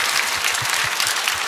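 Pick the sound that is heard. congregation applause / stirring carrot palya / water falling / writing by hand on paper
congregation applause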